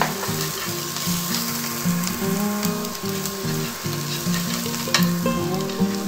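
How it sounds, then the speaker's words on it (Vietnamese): Minced shallots and garlic sizzle and crackle in hot oil in a pan, a loud, steady frying hiss with occasional stirring sounds and no talking. "Mình cho hành tỏi băm nhuyễn vào. Đợi cho nó vàng."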